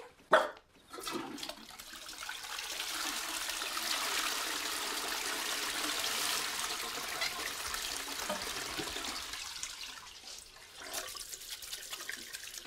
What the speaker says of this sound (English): This dirty water is going to the same place as Pippin's poo